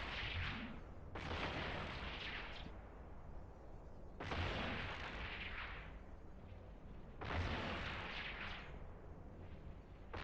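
Ship guns firing in the EVE Online space game, three heavy booming volleys spaced about three seconds apart, each a loud burst that rolls off into a long rumbling tail.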